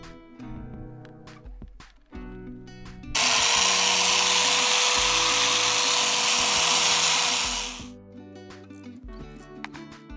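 A coin ring made from a 5 kopeck coin is polished with a power tool, a loud, steady high whine that starts abruptly and runs for several seconds before winding down, with quieter handling noises before and after.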